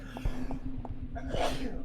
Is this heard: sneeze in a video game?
yes